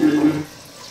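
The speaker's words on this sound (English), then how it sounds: "Go ahead and add your broth, Mary." Vegetable or beef broth is poured into a cooking pot for a Ramadan dinner, a brief close splash and trickle that fades out after a moment.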